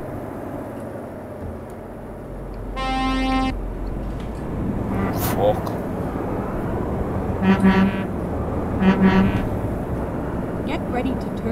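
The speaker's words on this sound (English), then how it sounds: "Honk honk." A truck horn in Euro Truck Simulator 2 sounds one long steady toot, then two shorter double blasts later on, over constant engine and road rumble with someone talking throughout.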